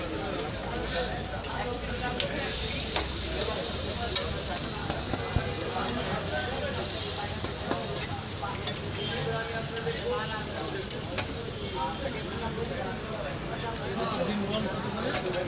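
Whole quail and chicken egg fry with potato, onion and chili in oil at a street food stall, a constant crackling sizzle with scraping and stirring clicks, while people talk over it throughout.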